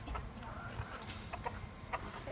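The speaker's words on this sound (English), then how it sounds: "Ma is feeding the chicken" A chicken clucks in short, scattered bursts while it is being fed, set against a steady low background rumble with soft murmuring nearby.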